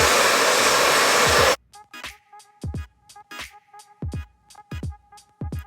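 A hair dryer blows hot air onto hair ends with a loud, steady whoosh for about a second and a half, then shuts off, leaving soft handling sounds and light rustling.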